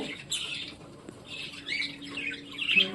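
A bad-tempered budgerigar hen that has laid eggs gives a run of harsh, close squawks and scratchy chatter. Brief pauses break up the noise, and the calls grow louder toward the end.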